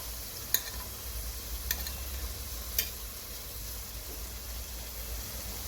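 Chunks of meat sizzle steadily in a pot with a little sugar and salt for a sweet tagine, a soft continuous frying hiss broken by a few sharp utensil clicks, with no one talking.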